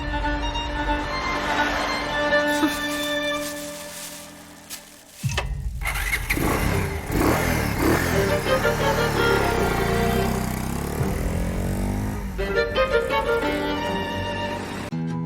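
A motorcycle engine idles, cuts out, then cranks and roars back to life, revving loudly and steadily up close with no talking.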